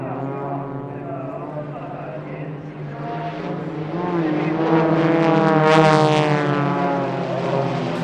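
A Global Stars unlimited aerobatic four-ship propeller team flies a pyro display at an airshow in Sichuan. Engines drone with harmonic whines that swell and rise in pitch as the aircraft pass closer and louder, with a voice faintly mixed in.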